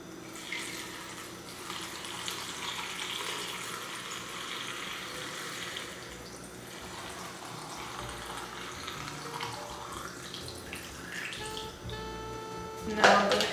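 Water pours into a blender holding melon and pineapple for fresh juice, a steady, moderately quiet splashing stream that runs for most of the stretch before a brief louder clatter at the end.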